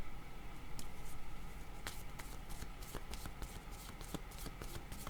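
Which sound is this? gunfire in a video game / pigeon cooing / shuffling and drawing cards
shuffling and drawing cards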